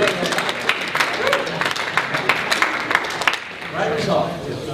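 A group in a training session gives a round of applause, loose claps spreading under raised voices and chatter, then fading as talk takes over near the end.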